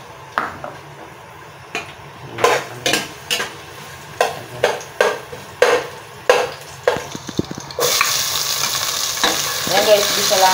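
Garlic and onion are sautéed in a pan for kare kare. Rhythmic scraping strokes from a spatula give way to a loud, continuous sizzle.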